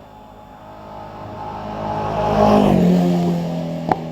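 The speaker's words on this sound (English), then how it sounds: "So Alex Hazelwood heading up toward the end of his run, followed by Tom Kenny in the little Ginetta G15." A racing car on a hillclimb run at Doune during the British Hillclimb Championship, its engine note rising and swelling as it approaches and passes, then fading, with a brief sharp click near the end.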